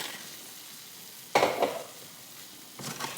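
Ground beef dropped into a hot pan for llapingacho, a faint background hiss broken by a sudden burst of sizzling and scraping, then a second sizzle as the meat is stirred.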